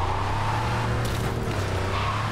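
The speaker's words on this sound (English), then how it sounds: "Let's go for a quick drive." A car driving in a video game, a continuous engine hum with steady road noise throughout and a faint scrape midway, moderately loud with no speech.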